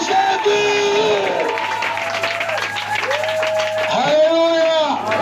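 A church congregation applauds loudly and continuously for Jesus, with crowd cheers mixed in, while a preacher's amplified voice carries over the clapping throughout.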